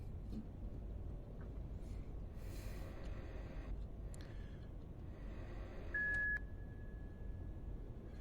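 Short electronic beeps sound in the video game Letters of Bernard Thorne, faint at first, then one clearer sustained tone, over a low background rumble.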